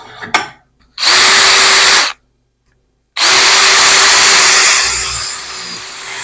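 A power drill whines steadily at high speed in two long bursts separated by a short pause, loud and close, as a drill bit bores into a hunting knife blank.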